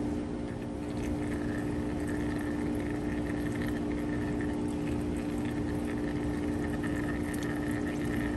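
Motor oil drains from a Honda TRX 300EX ATV in a steady, continuous liquid trickle with a constant noisy wash and no breaks.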